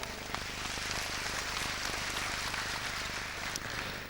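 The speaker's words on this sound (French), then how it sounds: "Applaudissements pour Maude, encouragement" Audience applause for Maude at an apprenticeship awards ceremony in Tours, a soft, even patter of many hands clapping at a distance, steady throughout without speech.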